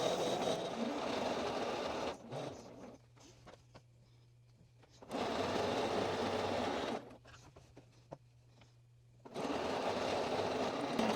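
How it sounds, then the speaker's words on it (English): Sewing machine top stitching a pair of pants, three steady runs of fast motor whirring and needle chatter separated by quiet pauses with faint hum, close and moderately loud. "now I'm going to sew, top stitch it down"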